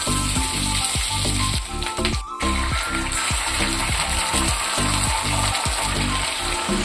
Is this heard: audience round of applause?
no